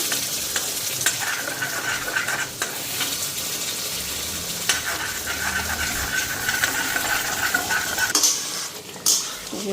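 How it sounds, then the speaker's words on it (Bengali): Fish spice masala fries in a pan with a dense, continuous hiss of sizzling. Occasional utensil clinks and scrapes sound as it is stirred, close and steady throughout. "মাছের মশলা ফ্রাই হয়ে গেছে"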